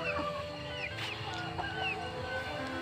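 Chickens cluck steadily in a rural yard on a hot day, several overlapping soft clucks and calls close by over a constant background hum, with no talking.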